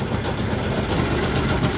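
A wooden-hulled salt trawler's engine drones steadily on the Rupsa River in Khulna, a low continuous rumble with no pauses.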